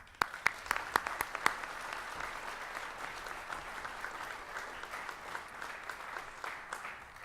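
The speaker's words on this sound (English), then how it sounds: "I'd like to give a round of applause for Jeff." Applause from an award ceremony audience, with a few sharp, loud claps at the start followed by steady, even clapping from a crowd in a hall, moderately distant and without talk.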